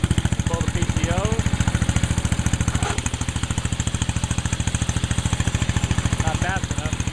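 Engine of a 1973 MW Gilson garden tractor driving a rototiller, running with a steady rapid chugging pulse throughout, close and loud, while voices talk over it.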